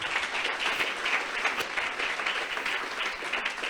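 A church congregation applauding for the Holy Spirit, dense sustained clapping from many hands filling the room at an even, steady loudness throughout, with no voices standing out.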